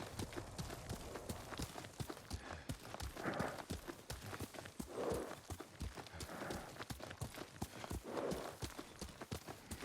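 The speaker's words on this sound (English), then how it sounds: "Yuriko's horse." Horse hooves clip-clop steadily at a walking pace in Ghost of Tsushima, a dense rhythmic series of close knocks that continues through the whole stretch over faint ambient sound.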